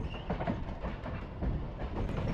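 Continuous low rumble and rattle of the Ajmer Superfast Express moving along the rails after leaving Sealdah at night, heard from inside at a steady level.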